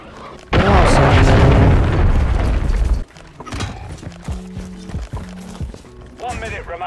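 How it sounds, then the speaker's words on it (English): A cruise missile in a video game detonates in a loud, rumbling blast that roars for a few seconds before cutting off, followed by quieter game noise and people talking. "Hostiles launched a cruise missile."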